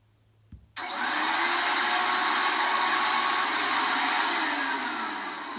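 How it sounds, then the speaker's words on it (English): After a brief click, a vacuum cleaner motor starts abruptly and runs with a loud, steady whooshing roar that eases slightly at the end. "It did sound like the vacuum cleaner."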